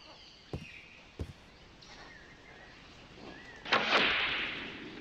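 Gunshots fired in the adventure game The Longest Journey: two sharp, separate cracks early on, then a louder, sustained blast that rings out and slowly fades, with no voices.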